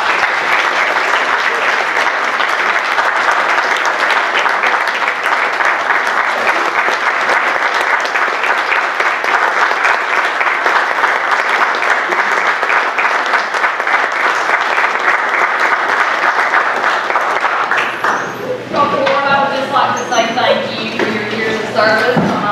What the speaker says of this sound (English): I'd like to give a round of applause.